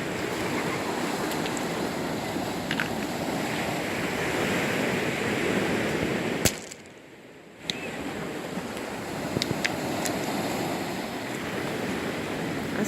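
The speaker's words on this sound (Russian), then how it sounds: "Шумит волна." Sea waves wash steadily onto the shore at Sochi at sunset, a continuous moderate surf hiss with a brief lull, a few faint clicks and some wind noise.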